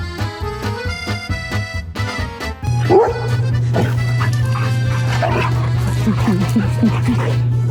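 A wet dog yips and whimpers in high, repeated cries, then barks and whines up close, with people talking over it and a steady hum beneath.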